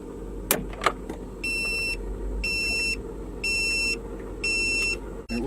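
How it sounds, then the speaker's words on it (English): An Autotether wireless engine cut-off alarm on a boat beeps in four evenly spaced bursts of rapid high electronic tones over a low engine rumble, after a couple of sharp clicks. "It went off, and then it also gives you the alarm."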